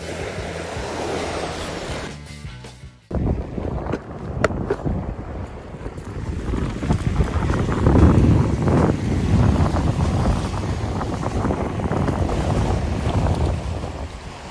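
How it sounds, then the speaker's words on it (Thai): Strong onshore wind roars across the microphone at the sea shore before a storm, with surf washing in beneath; a brief dropout near the start, then steady, loud gusty buffeting. "มีลมเข้าฝั่งนะครับ น่าจะเป็นพายุเข้าครับวันนี้"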